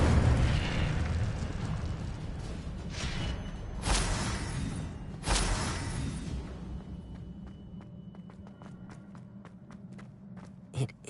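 Incendio fire spell in Hogwarts Legacy, a series of whooshing bursts of flame over a rumbling background, followed by a run of light footsteps and a couple of sharp pops at the end.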